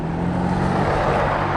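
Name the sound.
Yamaha Vino 50cc scooter engine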